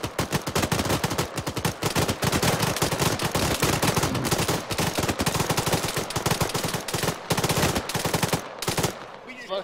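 Sustained M240 machine gun fire in Arma 3 against a zombie horde, loud rapid bursts rattling almost continuously for several seconds with only brief gaps, a few voices faint underneath.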